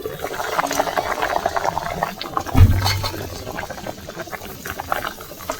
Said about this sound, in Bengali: তরকারিটা ফুটছে, এই দেখুন।